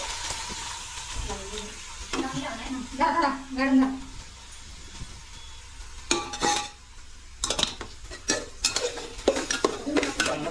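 A spoon stirs mutton curry in a metal pan, with soft sizzling underneath and clustered scraping and clanking strokes against the pan, close up; a voice murmurs briefly early on.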